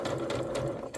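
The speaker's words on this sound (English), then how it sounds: "and again until I've finished sewing all of my pieces" Sewing machine stitching quilt block pieces in a chain, a steady rapid mechanical hum and needle chatter close by, running continuously with no talking.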